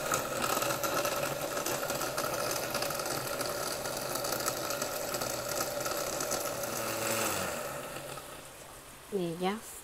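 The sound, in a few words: blender blending chiles with garlic and water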